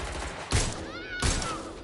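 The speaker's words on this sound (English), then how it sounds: "Shots fired!" Two loud bursts of rapid gunfire about a second apart, with a thin whistling tone ringing between them, from the video game Watch Dogs: Legion.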